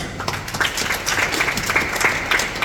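Audience at a church gathering breaking into applause, a dense, steady burst of many hands clapping that holds for a few seconds at moderate loudness.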